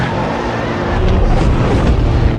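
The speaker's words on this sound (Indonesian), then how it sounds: "Kemudian Tao mengambil motor." A loud, close motorcycle engine roars steadily with a rough low-pitched rumble, rising slightly in intensity over a couple of seconds.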